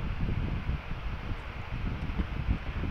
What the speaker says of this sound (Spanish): si ustedes escuchan un tipo, un sonido en el video ahí, es el ventilador